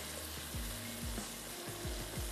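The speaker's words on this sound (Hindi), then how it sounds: "चलें अब मसाले को हम अच्छा सा भून लेते हैं।" Masala being fried for fish qorma, a quiet continuous sizzle with a few faint sweeping stirs against the pan, low in level and without talk.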